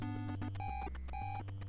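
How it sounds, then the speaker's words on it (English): The Jason alarm in the Friday the 13th video game plays as a repeating electronic beeping pattern of alternating low and high tones, steady and fairly quiet, with no talking. "Hear that sound? That's the Jason alarm."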